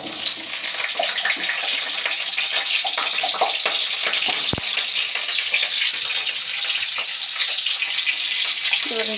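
Cut, washed potatoes dropped into hot oil in a wok, giving a steady, loud, hissing sizzle that stays even throughout with no talking.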